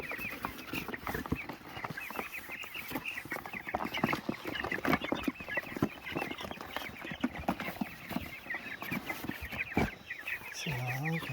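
Several chickens in a chicken tractor cluck and chatter softly at a distance, a steady low murmur of fowl with scattered small noises and no talking.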